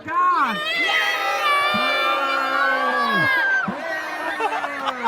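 Young crowd cheering and whooping for the defending champion Kyle Pagan before a race start, a loud, continuous mass of shouting voices with excited high-pitched yells rising and falling over about five seconds.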